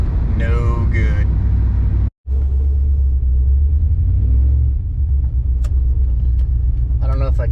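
A carbureted LS-engined truck accelerating, its engine a continuous low rumble broken by a brief dropout, with a person talking over it near the start and again at the end.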